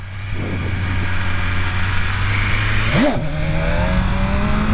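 A motorcycle engine idles loudly and steadily close by, then its pitch swoops up in a quick throttle blip during a wheelie test before settling back at a slightly higher drone.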